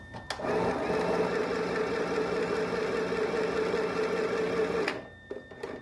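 A sewing machine runs in one steady, close burst of about five seconds while stitching pants, its fast mechanical chatter ending with a click and a few faint handling sounds.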